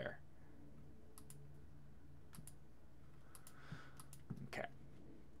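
A computer mouse clicks several times in short scattered taps, close but quiet, over a steady low room hum, with a faint click or two near the end.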